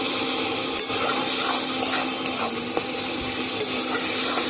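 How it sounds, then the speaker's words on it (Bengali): Spices with a little coriander powder and salt being stir-fried in a pan for a soybean kosha, a steady close sizzle with scraping and a few sharp clinks, no voices. "এবার আমি মশলাটা ভালোভাবে কষিয়ে নেব"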